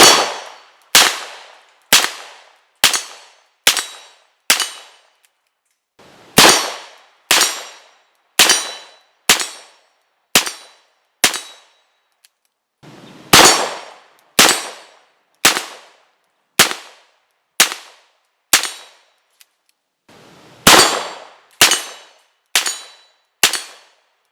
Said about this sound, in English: So in comparison to the 38 Special rounds I was first shooting